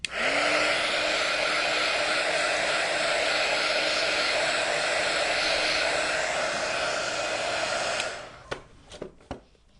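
A hair dryer runs steadily and loudly for about eight seconds, blowing on wet paint on a witch's hat and boots craft, then cuts off, leaving a few brief clicks and knocks.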